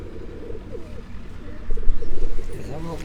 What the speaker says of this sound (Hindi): ये एक कबूतर आप देख रहे हैं राजा वाजिद के हाथ में